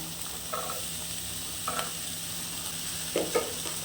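Steady sizzling of chopped onions sautéing in a pan, with occasional scraping stirs of a spatula, fairly quiet and without voices.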